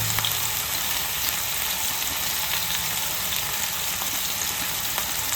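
Anjal (kingfish) coated in green masala fries on a hot tawa, a constant, close hiss and crackle of sizzling oil with faint stirring, steady in level and without pause.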